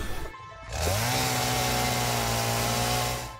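Chainsaw in the video game Satisfactory felling trees, a loud sustained motor whine that rises in pitch after a short quiet start and runs steadily before tapering slightly.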